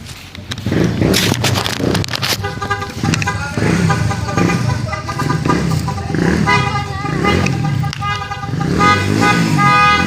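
Vehicle horns honk repeatedly in loud bursts over engine noise, several toots overlapping and varying in pitch, close by and busy.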